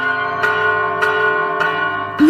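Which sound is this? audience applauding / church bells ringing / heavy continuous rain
church bells ringing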